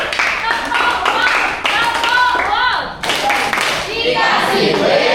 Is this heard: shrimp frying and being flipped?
no